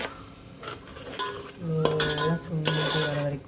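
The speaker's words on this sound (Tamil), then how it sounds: "நல்லா சுண்டி வர வரைக்கும், பச்சை வாசனை போகிற வரைக்கும் வதக்கிக்கலாம்" Onion, tomato and mint sautéed in a pan for biryani, with metal utensil scrapes and stirring clinks over a soft sizzle, close and fairly quiet, in short bursts.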